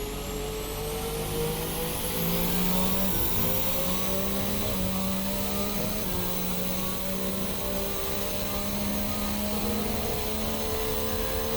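Formula Hybrid 2017 open-wheel race car in a racing sim game, its engine note climbing steadily through the gears as it builds speed, loud and continuous with layered harmonic whine and no talk.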